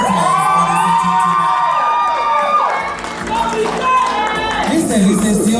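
Audience at a Samoan Tausala and Manaia pageant competition cheers, whoops and shouts for a contestant walking on stage, a loud, dense crowd roar with an announcer speaking over it.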